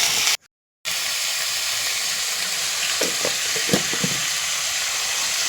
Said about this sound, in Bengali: সব সমস্ত কিছুকে ভেজে নিয়ে ভালো করে ভেজে নেওয়ার পর আমরা আলুগুলোও দিয়ে দিলাম